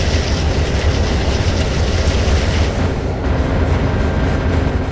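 A passenger train bound for Baltimore, Maryland runs steadily along the rails with a loud, continuous rumble and dense rolling noise for the whole stretch, with no talking.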